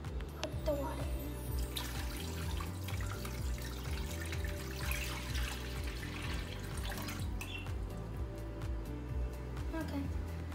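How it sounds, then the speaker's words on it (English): Water poured from a container into a pot of white beans while cooking veggie meatballs, a steady splashing pour running throughout with a voice talking over it. "But now I'm gonna put the water in."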